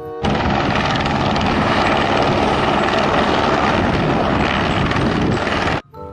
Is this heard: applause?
no